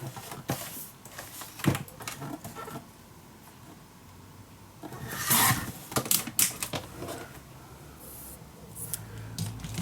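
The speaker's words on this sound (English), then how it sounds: "so we need to cut down this little piece" Paper trimmed to size for a handmade Stamperia envelope mini album, with scattered close snips and rustling handling sounds, a louder burst of cutting midway, and no talk.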